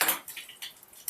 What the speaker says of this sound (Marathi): आता आपण त्याच्यामध्ये मोहरी टाकणार आहे